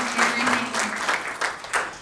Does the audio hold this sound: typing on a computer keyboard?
no